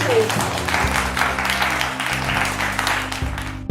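A studio or store-event audience applauds loudly and steadily while music plays underneath, and the clapping continues throughout the clip.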